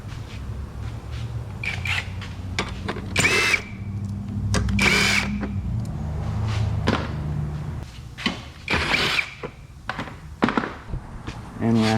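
A power tool spins off bolts on a Hyundai Elantra headlight assembly, several short, loud whirring bursts separated by pauses, with clunks of parts and a low steady hum underneath.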